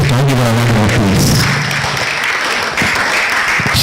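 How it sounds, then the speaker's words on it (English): Audience applause at a palm wine conference, sustained and dense throughout, with a voice speaking over the start before the clapping fills in alone. "Please can you give her a round of applause?"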